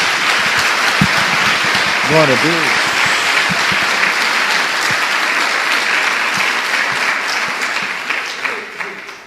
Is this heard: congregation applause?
yes